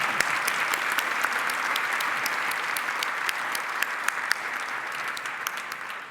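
Sustained applause from a crowd in the Massachusetts House chamber during the 2020 State of the Commonwealth, dense steady clapping filling the hall with a few sharper individual claps standing out.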